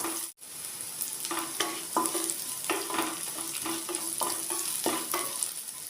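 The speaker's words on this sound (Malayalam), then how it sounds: "ഉള്ളി നന്നായിട്ട് വഴറ്റി വരട്ടെ." Onions sautéing in a pan with a steady sizzle and repeated rhythmic stirring scrapes, close and continuous, with no one talking.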